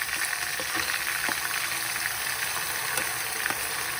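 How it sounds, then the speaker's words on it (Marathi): Coconut masala being dry-roasted in a pan for Satara-style mutton curry, a continuous close hiss and crackle with occasional light scraping taps of stirring, no talking. "आता आपण हा खोबरं जो मसाला आहे सगळा आधी व्यवस्थित सगळा भाजून घ्यायचा आहे"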